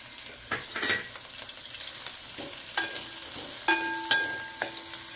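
Chopped coconut pieces fry with ginger and onion masala in a pan, a soft continuous sizzle broken by repeated utensil scrapes and clinks of stirring, heard up close with no voices.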